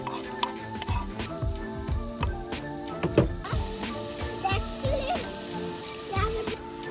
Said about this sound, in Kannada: Olive oil ಕಾದ್ಮೇಲೆ lot of garlic ಹಾಕ್ಕೊಳ್ಳಿ.